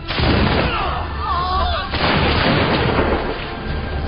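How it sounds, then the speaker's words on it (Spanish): Brown Bess muskets fired by British soldiers at colonists, heard as a continuous dense roar of overlapping gunfire and booming blasts, loud and sustained throughout. "Preparan sus fusiles Broadbecks y disparan contra los colonos."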